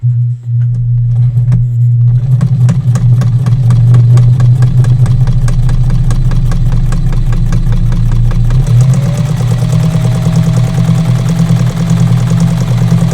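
Home sewing machine running steadily on a sewing table while stitching a fabric mask with a HEPA filter insert, a loud continuous motor hum and rapid mechanical chatter close to the microphone, shifting pitch partway through.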